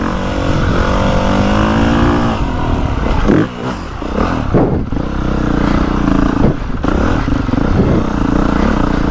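A 2025 Honda CRF450R dirt bike is ridden through soft, rutted ground, its loud close engine droning and revving with rising and falling pitch, one brief dip in power, and clattering knocks.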